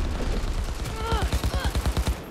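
Rapid bursts of gunfire from a gun in Cyberpunk 2077, played on Very Hard with a ricochet build, firing in a steady rhythmic stream of loud, close shots with a few ringing tones mixed in.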